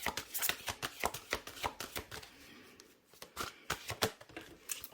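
Tarot cards shuffled by hand in a rapid run of crisp riffling slaps and snaps, close and fairly quiet, with a short lull partway before the shuffling resumes.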